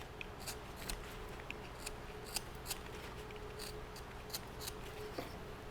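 A knife shaves the wooden trim of a carved Santa ornament's hat, giving small scattered scraping snicks at an uneven pace, close-up and quiet over a faint steady hiss.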